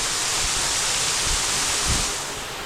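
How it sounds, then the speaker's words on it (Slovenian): Ukanška Suha waterfall in Slovenia in icy winter conditions, a loud continuous roar of rushing water heard up close beneath the falls. "Pod slapom Ukanška Suha."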